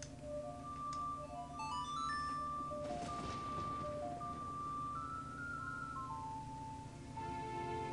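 A bright tonal melody plays on an ocarina-like instrument from the video game The Legend of Zelda: Majora's Mask, with stepwise repeating notes over a soft steady background hum.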